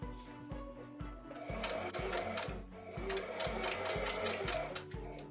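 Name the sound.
sewing machine stitching fabric around a curve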